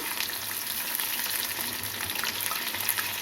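Fish frying in a pan of hot oil gives a close, continuous hiss and crackle with small pops, steady throughout with no one speaking.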